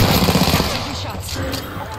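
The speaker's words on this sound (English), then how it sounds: "The enemies are shooting at me." Gunfire in the video game Apex Legends during a fight: a dense, loud, continuous rattle of rapid shots mixed with game effects, close and filling the whole moment.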